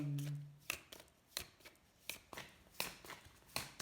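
Tarot cards are drawn and shuffled, giving a faint run of crisp flicks and snaps roughly every half second, after a brief low hum at the start.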